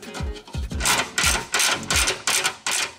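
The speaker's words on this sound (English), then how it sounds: "get the 10 millimeter bolt, and just bolt it back up." A 10 mm bolt being run in to refit a skid plate on a 2015-or-later Subaru WRX, heard as close, loud bursts of ratcheting clicks repeating in a steady rhythm, with no talking.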